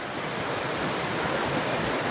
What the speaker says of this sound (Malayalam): നല്ല വെള്ളം ചാടുന്ന സൗണ്ടും ഒക്കെ ഇവിടെ കാണാൻ കഴിയും